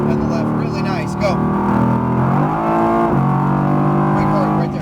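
A Mercedes-AMG GT R engine on a race track revs hard under full throttle, its pitch climbing and then dropping at an upshift, with a voice talking over the loud in-car drone.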